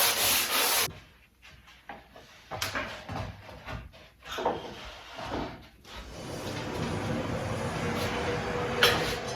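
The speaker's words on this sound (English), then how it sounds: "I'm just going to sand this off a little bit and knock off these hard edges right here." Rough scraping strokes of hand sanding rub back and forth in bursts on a wooden rip jig's hard edges, close up, then settle into a steady hiss of friction against wood.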